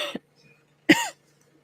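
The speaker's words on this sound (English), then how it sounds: "sorry about coughing" A person coughs twice, a short light cough followed by a louder, fuller one, close and alone in an otherwise quiet room.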